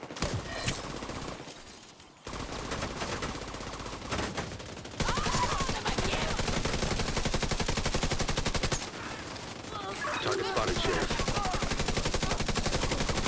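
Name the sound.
gunshots from shooting, likely in a video game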